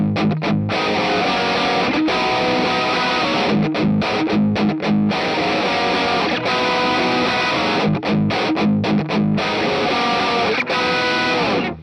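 Electric guitar through a Sonicake Matribox II overdrive plays a chord-heavy riff with gritty, saturated tone and brief choppy stops, loud and up close.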